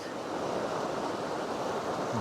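A river in big flood rushes with a steady, loud, broadband roar of water, continuous and unbroken, with no voices over it.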